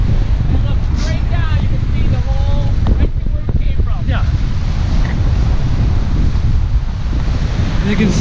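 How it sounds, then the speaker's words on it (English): Ocean waves crash against the Cape Cod Canal jetty in a steady, loud wash with heavy wind buffeting the microphone, while voices talk faintly over the surf throughout. "See the ocean. The waves crashing."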